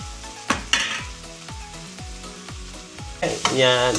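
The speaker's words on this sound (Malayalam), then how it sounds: "സവാള ചെറുതായിട്ട് മൂത്ത് വരുന്നുണ്ട്." Onions fry in a pan as pork curry is cooked, with a steady sizzle under repeated stirring strokes and utensil scrapes against the pan, close and clear.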